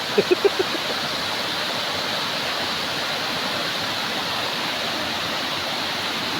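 A waterfall in a Konkan village roars as a steady, dense rush of falling water, loud and unbroken throughout, with a few quick clicks at the very start.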